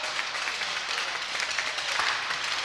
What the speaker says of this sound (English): And a quick round of applause for our coaches.